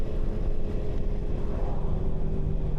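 Steady, loud engine drone from a KTM 390 Adventure R motorcycle pulling in sixth gear from about 80 km/h, a continuous low rumble with road and wind noise and no talking.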